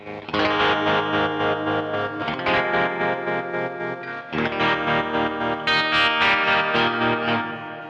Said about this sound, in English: Nice about this is I can just flick this around with the settings I have and I get a usable chorus.